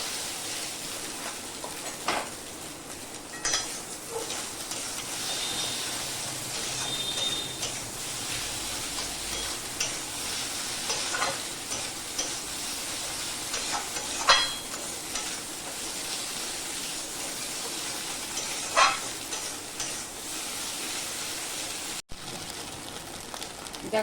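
Ginger garlic paste fries in a pan with egg for egg tadka, giving a steady, moderate hiss of sizzling oil with scattered clicks and scrapes of stirring.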